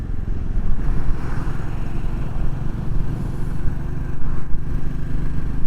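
A Royal Enfield Classic 350 motorcycle cruises on a road trip, its steady engine thrum mixed with loud rushing wind buffeting throughout, with no talk.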